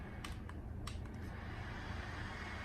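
An Arctic Air Freedom personal air cooler fan running on its high setting gives a faint, steady airy whoosh, with a few light clicks near the start.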